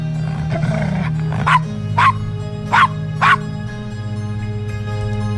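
A dog barks in the Gabriel Knight: Sins of the Father video game, four sharp close barks spaced about half a second to a second apart over a steady low background hum.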